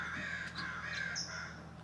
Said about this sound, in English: It's my family, Crow family.